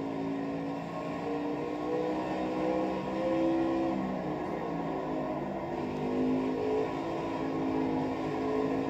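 Race car engine droning steadily through laps of Bristol Motor Speedway in a racing video game, a continuous loud hum with slight rises and falls in pitch, no voices.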